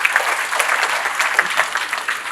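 An audience claps for themselves after a group meditation session, in a dense, steady round of applause that fills the whole moment, loud and close with no voices on top.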